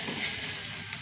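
Curry leaves, ginger, garlic and green chili fry in hot oil, giving a brief, steady, fairly quiet sizzle with no talking.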